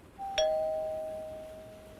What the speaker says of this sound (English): So the first one is a doorbell.